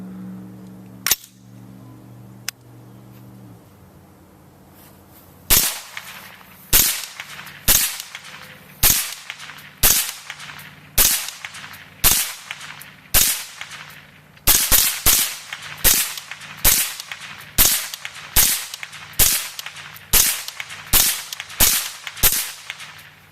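An AR74, a 5.45 AR-15 variant fired from a modified PMag at an outdoor range: after a couple of early cracks, about twenty sharp, loud single shots ring out at a steady, unhurried pace, each followed by a short echo.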